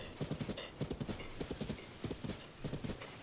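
Horse hooves clip-clop in a quick galloping rhythm with a whinny in Zelda: Tears of the Kingdom on Switch 2, fairly quiet and steady throughout.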